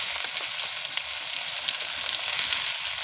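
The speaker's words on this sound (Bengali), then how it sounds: "এবার বন্ধুরা তেলে ঝিঙেটা ছেড়ে দেবে, ঝিঙেটাও হালকা করে ভেজে নেওয়া হবে।" Sliced ridge gourd sizzling steadily in hot oil in a pan, a close, even crackling hiss with no pauses.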